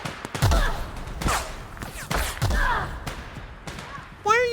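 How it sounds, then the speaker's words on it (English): Video game gunshots aimed at the player ring out as a handful of loud, separate bangs spaced across a few seconds, with a voice reacting in between. "Why are you shooting me, Maverick?"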